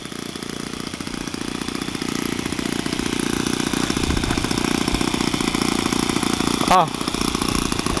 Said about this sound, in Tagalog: Michael Ong is a Coroplast plane. Michael Ong with 4-stroke engine.